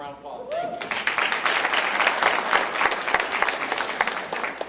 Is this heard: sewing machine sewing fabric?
no